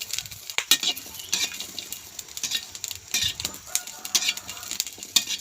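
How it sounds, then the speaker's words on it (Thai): Chilies, shallots and garlic dry-roasting in a pan are stirred steadily, a spoon scraping and clicking against the metal in a quick, continuous rhythm with a faint sizzle beneath, up close and without talk. "จะคั่วไปเรื่อยๆนะคะ คั่วต่อไปเรื่อยๆนะคะเพื่อนๆ"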